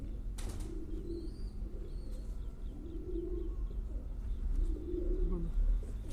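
Pigeons coo softly in repeated low, rolling calls, with faint chirps above and a constant background hum.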